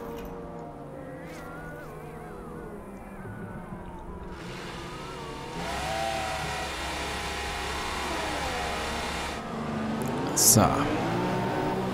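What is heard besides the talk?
race car engine revving at pit exit, F1 2015 video game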